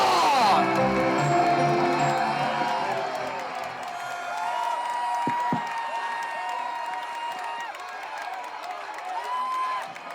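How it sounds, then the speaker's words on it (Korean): Crowd applause and cheering at a political protest rally in Incheon against Fukushima wastewater release, loud massed clapping and whoops that swell at the start, then fade into sustained lower applause. "여러분 큰 박수와 함성을 부탁드립니다"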